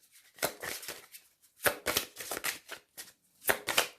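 A deck of Mademoiselle Lenormand oracle cards is shuffled by hand at close range in several quick riffled bursts separated by brief pauses, crisp papery flutters with soft taps.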